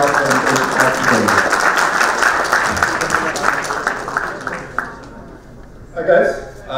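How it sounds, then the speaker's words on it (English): Conference audience applauding a speaker invited on stage at an art-in-games talk, dense sustained clapping that fades out near the end before a voice starts speaking. "And round of applause for your presentation today."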